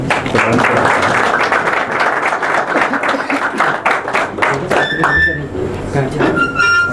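A church congregation in Sohar, Oman, applauds to welcome the pastor, with dense clapping for about five seconds that then thins out, while voices carry over it.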